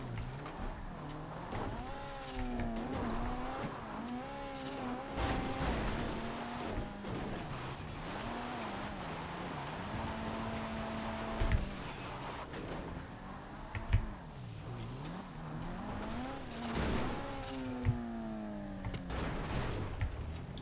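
An armored vehicle driven in GTA V, a continuous engine drone whose pitch rises and falls with repeated revving and shifting, plus a few brief bumps and knocks, with no voices.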